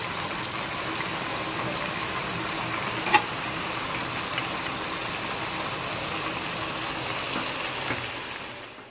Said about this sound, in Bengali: প্রথমে কুমড়োটা ভেজে নিচ্ছি, বেগুন আর পটলটা পরে ভাজবো